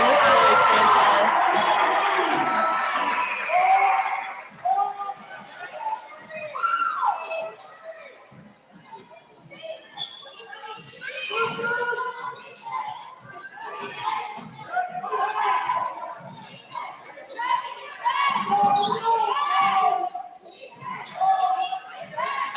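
A high school basketball crowd at a Redsticker versus Live Oak game, with a loud burst of cheering at the start that fades into scattered shouts, clapping and chatter, commentators talking throughout.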